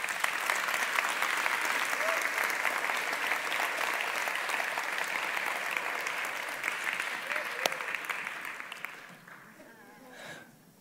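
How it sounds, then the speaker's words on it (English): Dense, steady audience applause as two people come up on stage at a coaching session, sustained loud and even for about nine seconds before thinning out into scattered claps and faint voices. "Give them a round of applause"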